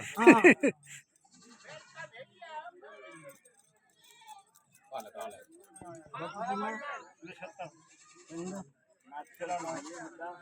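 Goats bleat repeatedly in wavering cries, several close by, mixed with people talking in the background at an outdoor goat market in Punjab.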